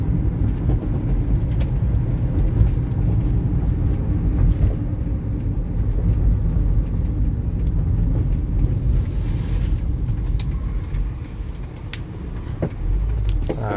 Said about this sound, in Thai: เกียร์เปลี่ยนนุ่มนวลนนะ ไม่มีกระตุกกระชากนะครับ